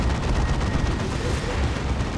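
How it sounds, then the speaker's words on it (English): A Demolisher Cannon booms in a large Dawn of War 2 battle, its heavy blast sitting within a dense, continuous roar of gunfire and explosions. "Demolisher Cannon, decent hit."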